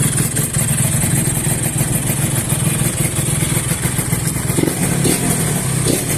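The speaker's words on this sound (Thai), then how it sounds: "เสียงท่อนุ่มมากเลย" A Yamaha RXS135 motorcycle engine runs steadily at idle, its exhaust giving a smooth, continuous low rumble with light mechanical clatter, close and fairly loud.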